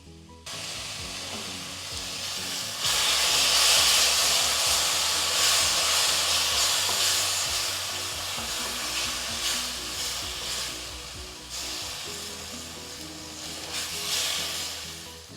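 Pureed tomato sizzles steadily in coconut sprout masala over a low flame, a continuous hissing fry with occasional scraping stirs, close and fairly loud, briefly dipping mid-way.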